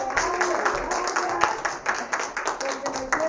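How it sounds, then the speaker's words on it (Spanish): A church congregation applauds together during a service, a dense run of claps rolling steadily throughout at moderate level, with voices mixed in beneath. "Un aplauso."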